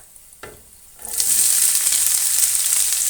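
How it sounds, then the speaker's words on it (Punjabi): Onions hit a pan of browned garlic and cumin and start frying loudly, a steady close sizzle that rises suddenly after a brief quiet moment with a soft clink. "ਲਸਣ ਤੇ ਜੀਰਾ ਬਰਾਉਨ ਹੋ ਗਿਆ ਹੁਣ ਆਪਾਂ ਪਾਵਾਂਗੇ ਪਿਆਜ਼"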